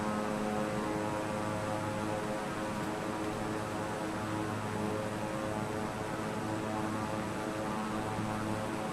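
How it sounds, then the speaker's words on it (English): Airplane engine in a flight simulator game, a constant loud propeller drone with a dense, even mechanical hum that continues steadily without pauses, alone and without talking. "And we're gonna slow down the plane."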